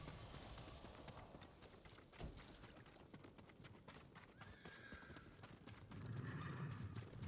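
Horses in the video game Ghost of Tsushima gallop with rapid clip-clop hoofbeats and give loud whinnying neighs, fairly close, with a burst of hooves near the end.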